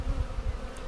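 A close, continuous buzzing of honeybees going into a hive, low and droning with a faint rise and fall.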